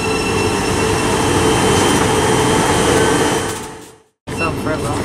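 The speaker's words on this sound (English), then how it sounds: "That's the 1306 Thameslink service to Bedford from, I presume, Brighton" A Thameslink passenger train bound for Bedford runs through Harlington station on the Midland Main Line, a loud, close, steady roar of wheels and traction that fades before cutting off abruptly.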